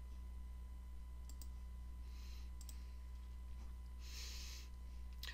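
Mouse clicks while selecting shapes in Adobe Illustrator: a few faint, sharp ticks spread over a steady low hum, with no voices.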